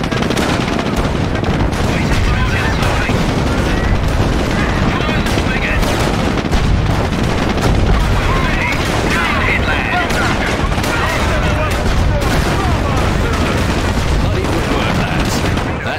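Continuous machine-gun rattle and booming artillery fill a Company of Heroes battle for Hill 112 at Caen, loud and dense throughout, with shouted voices buried in the din.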